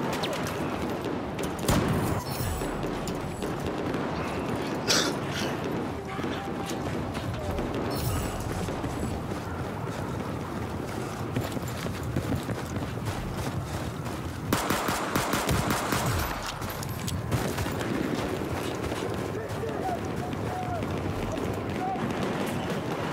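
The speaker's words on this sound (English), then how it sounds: "I heard gunfire down that end of the hall" Rapid bursts of Battlefield 4 gunfire crackle throughout, with sharper volleys near the middle, layered over game ambience and occasional voices.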